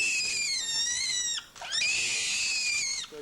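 A newborn gorilla infant, delivered by caesarean and weighing 2.88 kilograms, wails in two long, loud, high-pitched cries close by, with a short gasping break between them.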